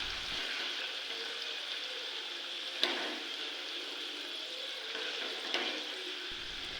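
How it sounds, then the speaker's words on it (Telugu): Peanuts and chana dal sizzling in hot oil for tomato chutney, a steady soft frying hiss with a couple of sharp pops or spoon clinks, no voices. "ఈ పప్పులు ఫ్రై కావడానికి కొంచెం టైం పడుతుందండి."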